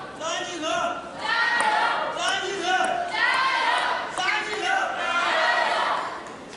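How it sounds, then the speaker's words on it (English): Crowd cheering at the Asian Cup 2016 men's singles table tennis final between Xu Xin and Zhang Jike: loud, sustained shouting and chanting from many voices, surging in waves. "So the crowd trying to urge Jike to greater heights."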